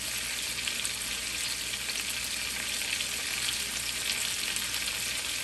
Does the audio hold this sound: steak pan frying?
yes